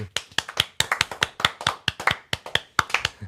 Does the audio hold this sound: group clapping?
yes